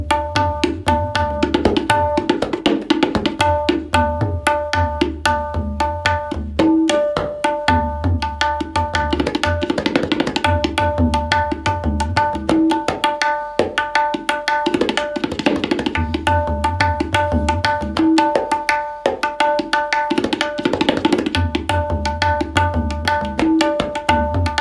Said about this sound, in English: So on the tabla, that would sound like this.